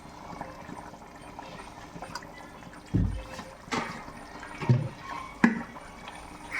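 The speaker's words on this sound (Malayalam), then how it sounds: "പാൻ അടുപ്പ വെച്ചിട്ടുണ്ട് അതിലേക്ക് ഇച്ചിരി വെളിച്ചെണ്ണ ഒഴിക്കുക" Coconut oil poured into a pan on a stove while cooking Malabar potato stir-fry, a quiet liquid trickle with soft clinks of the pan and a few louder bumps, no talk.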